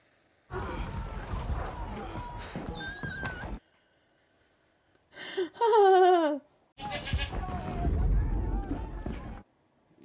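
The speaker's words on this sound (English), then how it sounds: "We got goats." Goats bleat in short, wavering cries between bursts of louder sound, with one prominent quavering bleat standing out near the middle; people talk over parts of it.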